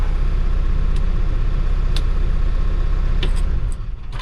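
A 2016 Case 590SN backhoe loader in need of repairs runs with a steady, loud diesel rumble throughout. A few faint clicks sit on top of the engine, and the drone softens slightly near the end.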